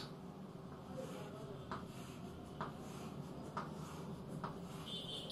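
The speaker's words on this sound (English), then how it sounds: "So I am wounding a wire like this." Wire is wound around a cylindrical core such as an iron rod or PVC pipe, producing a soft, steady rubbing and scraping with a few light regular ticks, close and fairly quiet.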